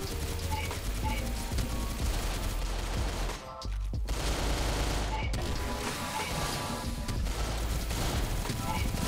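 Rapid bursts of automatic gunfire from the online shooter game Crossfire, loud and dense with booming low end, running almost continuously with a brief lull near the middle, layered over game music and effects.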